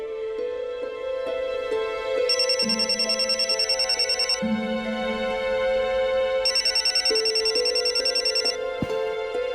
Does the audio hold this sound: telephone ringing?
yes